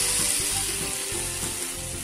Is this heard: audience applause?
no